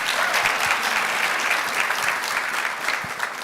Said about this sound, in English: A round of applause for Michaela.